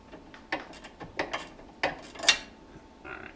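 A ratchet works a 15 mm rear sway bar end link bolt on a fifth-generation ZL1 Camaro, giving a few separate close clicking bursts and metallic ticks with short gaps between them.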